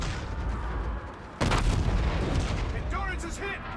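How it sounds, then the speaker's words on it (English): Rapid automatic gunfire from a chain gun in the sci-fi shooter Call of Duty: Infinite Warfare, starting abruptly as a loud dense burst over game ambience and continuing in a sustained roar with electronic effects near the end. "Might just be a generic chain gun, to be fair."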